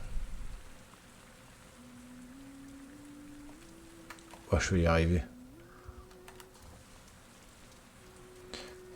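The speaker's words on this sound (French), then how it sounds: "Ok, il pleut." Steady light rainfall patters through the PS5 game Avatar: Frontiers of Pandora alongside soft game tones and a rising musical cue. Someone briefly speaks over it partway through.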